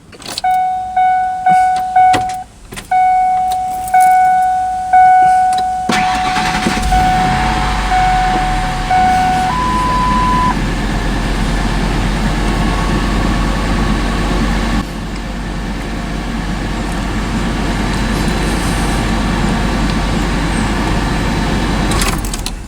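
A 1997–2004 Ford F-150 pickup fitted with a new oil pressure sensor, its engine idling steadily and loud for most of the span after a run of chimes and dash beeps at the start, with no talking.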